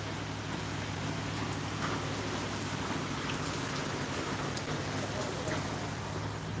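Heavy rain pours down in a village during a downpour, an even, dense hiss that holds steady and fairly loud throughout.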